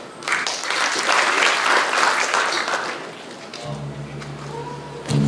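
Applause from the audience at the opening of the 58th Dies Natalis celebration of ISI Padang Panjang, a dense steady patter of clapping that fades, then gives way to a low hum as it trails off.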